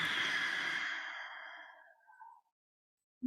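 A long, audible exhale during yoga shoulder rolls, a soft breathy rush close up that gradually fades into silence, with no talk over it.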